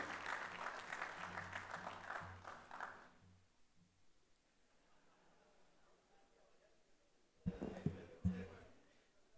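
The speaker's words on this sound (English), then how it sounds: "A round of applause for Rishi." Brief applause from an audience at a tax seminar on UAE corporate tax law, a burst of clapping with a low hum, then quiet room tone and a few later louder bursts with talk.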